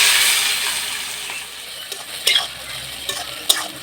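Onions go into a pan of fried potatoes with garam masala, bay leaves and dried chillies, giving a strong hissing sizzle that eases off, followed by several sharp scraping stirs of a spatula.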